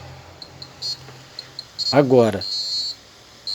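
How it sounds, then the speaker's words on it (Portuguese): High electronic beeps from a humidity and temperature climate control unit sounding a different alarm tone for a sensor communication error, in short repeated bursts and then a longer run, with someone speaking briefly over them. "o alarme irá soar em uma tonalidade diferente"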